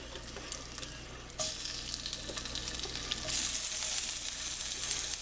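Blanched potatoes fry in a pan. A soft sizzle jumps louder after about a second and intensifies again midway into a dense, crackling hiss.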